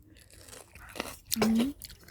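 Someone chews som tam papaya salad up close with a few soft crunches. A short voiced sound rises in the middle, and faint mouth noises follow.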